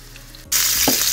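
Chicken breasts hit hot oil and butter in a pan and burst into a loud, steady sizzle that carries on unbroken, after a brief quieter stretch of kitchen hush.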